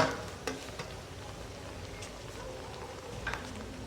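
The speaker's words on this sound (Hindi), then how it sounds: "प्याज ऐड करें इसमें और इसको थोड़ा सा फ्राई कर लें" Onion frying with ginger garlic paste in a pan, a steady soft sizzle with occasional light stirring scrapes, fairly quiet and continuous, no talking.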